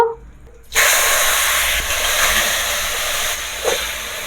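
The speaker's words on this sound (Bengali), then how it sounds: "পেঁয়াজটা আমি ভালো করে একটু ভেজে নিলাম।" Onion paste hitting hot oil with tempering spices for a Bengali prawn malai curry: a sudden loud, steady frying hiss and sizzle that starts after a brief quiet moment and continues close by, alone.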